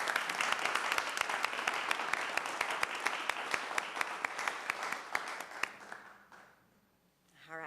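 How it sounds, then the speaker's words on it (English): Audience applause at a city council meeting, a steady dense clapping with sharp individual claps that fades out near the end. "Let's give them a round of applause."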